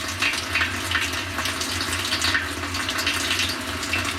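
Water rushes steadily into the tub of a Samsung 5.0 cu. ft. top-load washing machine (WA50R5200AW) on its hand-wash setting, a constant close splashing gush with a low mechanical hum beneath.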